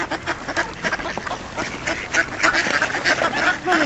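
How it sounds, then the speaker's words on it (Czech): Ducks quack repeatedly in a busy, overlapping chorus from close by, with bursts of calls throughout and no clear speech over them. "Musíte blíž, abyste viděli kachny."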